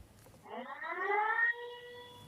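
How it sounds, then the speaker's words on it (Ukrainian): A city air raid siren rises and holds a steady wailing tone for about a second, then fades into a lingering tail, sounding distant and fairly quiet with no talk over it. "вперше від початку доби лунає сигнал повітряної тривоги"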